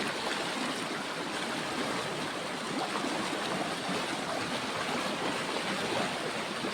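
Steady rushing water flows continuously under a small bridge, a broad close wash of churning sound with no voices over it.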